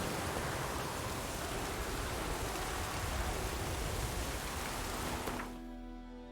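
Steady rain pours down in The Witcher 3 Wild Hunt, a dense even hiss that holds for several seconds before dropping away abruptly near the end, leaving a quiet low hum.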